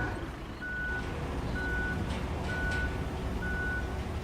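Road roller reversing in the road-building game RoadCraft, a steady series of four evenly spaced high warning beeps over a low continuous diesel engine rumble.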